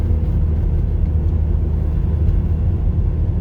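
A Saab 9-3 with newly installed R1 Concepts performance front rotors and pads coasts along a road without braking, giving a steady, loud low engine and road rumble throughout.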